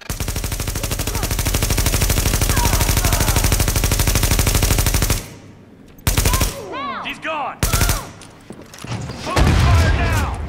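Rapid, sustained automatic gunfire in The Division, a dense loud rattle for several seconds that cuts off, then returns in short bursts between shouted voices.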